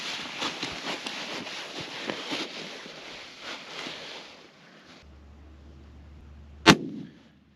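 A long-range rifle shot at a 522-yard steel target hanging on a tree limb at an outdoor shooting range: after a stretch of rustling background, a single sharp crack stands out near the end, loud and alone.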